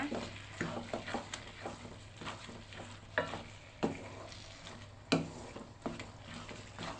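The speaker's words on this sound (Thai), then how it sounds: "ผัดให้เข้ากันดีค่ะ" Pork filling stir-fried with chopped sweet preserved radish, a savoury stuffing for tapioca dumplings, giving steady soft sizzling with repeated spatula scrapes and stirring knocks close by, with no talk.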